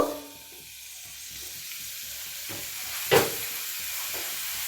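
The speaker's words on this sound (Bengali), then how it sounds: "হালকা করে কষে নিচ্ছি মূলোটা" Cut radish frying in hot oil, a soft steady sizzle with a brief louder burst of spitting partway through, heard close and alone.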